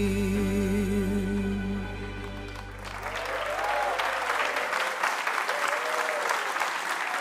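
Audience applause after a ballad on a Schlager TV show rises over the final sustained music notes and continues as dense, steady clapping from a large crowd.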